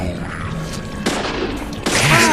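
A gunshot in the horror game Deadly Premonition, a couple of loud sharp bursts cutting through steady game ambience, the last one louder and closer.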